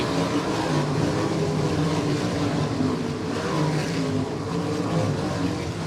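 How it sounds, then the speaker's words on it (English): Dirt track race cars roar together at full throttle on a green-flag restart, a dense continuous engine drone that stays loud and steady throughout, with no talking. "going to accelerate at the cone off of turn number 4. Green flag flies, so we're back underway"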